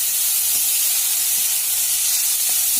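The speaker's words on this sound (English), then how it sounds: "So I am going to fry it until golden brown." Onions frying in oil in a pan for Kerala egg curry: a steady, dense, bright sizzle that stays even and close throughout, with no talk.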